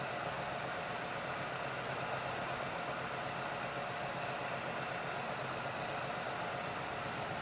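A barn-find Chevelle left dormant for 24 years idles steadily after restarting, a smooth, even engine hum that holds at constant level throughout with no talk.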